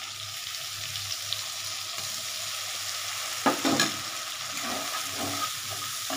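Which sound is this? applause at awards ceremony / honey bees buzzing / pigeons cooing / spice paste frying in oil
spice paste frying in oil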